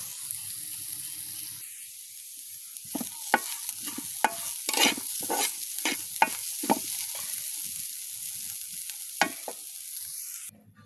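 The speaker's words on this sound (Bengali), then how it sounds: "ভাজা ভাজা না হওয়া পর্যন্ত এভাবে উল্টে পাল্টে নাড়তে থাকবো" Jackfruit seeds frying in a pan over a village clay stove, stirred and turned repeatedly with a utensil, producing a constant sizzle broken by a series of sharp scraping strokes, close and loud.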